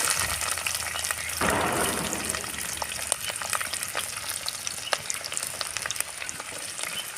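Peanuts and chopped onions fry in a pan with a loud burst of sizzle as the onions go in, then a steady crackle with scattered stirring clicks.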